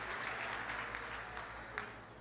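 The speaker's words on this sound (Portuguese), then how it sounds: "dando a Jesus uma linda salva de palmas" A church congregation claps together for Jesus at an evangelical Pentecostal service, a dense, steady wash of applause filling the room from start to finish with no one speaking.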